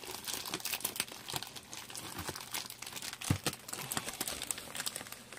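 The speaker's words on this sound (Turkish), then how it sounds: "Şunun ilk önce bir kutu açılımını poşetinden çıkaralım." A plastic shipping bag crinkles and rustles as a package holding a boxed ANBIUS security camera is pulled out of it, with continuous close crackling and a few sharper crunches.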